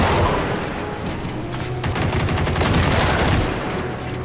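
AK rifle gunfire in the game Generation Zero, a dense continuous barrage of loud shots and echoes with no pause.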